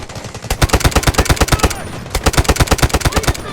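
Rapid automatic gunfire in the video game Delta Force, loud close bursts of evenly spaced shots with a brief pause midway before firing resumes, no talk.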